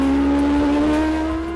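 A supercharged Kawasaki H2R motorcycle screams past at speed in sixth gear on the Isle of Man road course, a loud, steady high-pitched engine whine that holds briefly and then begins to fade.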